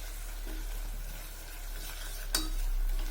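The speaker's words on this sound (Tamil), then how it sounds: "பட்டரை சேர்த்து நல்லா கிளறி விட்டுக்கணும்" A spoon stirs buttered tomato rice in a hot pan, giving a low, steady sizzle with a brief scraping clack near the end, close and alone without speech.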